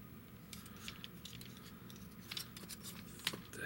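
Plastic parts of a Maketoys dump truck transformer toy are folded and snapped into place, giving faint, close, scattered clicks and light scratchy rubs over quiet background hiss, with no voices.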